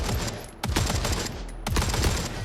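Unsuppressed gunfire in a video game, loud rapid automatic bursts in two long strings with a brief gap between them, close and unmuffled.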